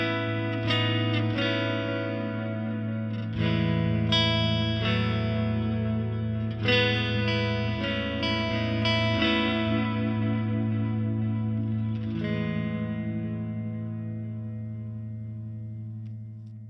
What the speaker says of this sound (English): let's go check out the stereo delay